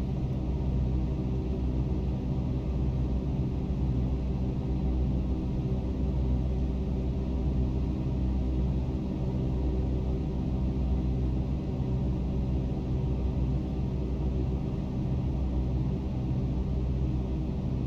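Constant low rumble from a simulated aircraft engine heard in the cockpit in the X-Plane 11 flight simulator, steady and unbroken throughout, with no voices.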